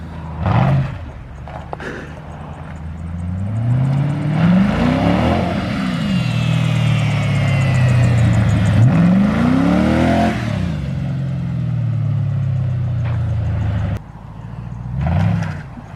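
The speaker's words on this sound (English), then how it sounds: "Every time he touches the gas, it's a spin." A lightweight, stripped-down car revs hard in repeated bursts, engine note climbing and falling as the tyres spin with no traction, loud and close with no talk over it.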